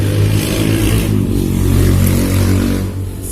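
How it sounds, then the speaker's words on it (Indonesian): A motorcycle passes by outside, its engine droning and rising with a steady low rumble that swells and fades over a few seconds. "Suara motor guys, suara motor."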